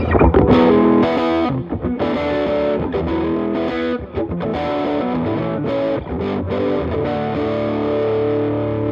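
Distorted electric guitar from an upgraded Epiphone Les Paul Studio, both humbucker coils wired in series, plays a thick, muddy, powerful riff of sustained chords and notes, loud and continuous for about nine seconds, with no talking.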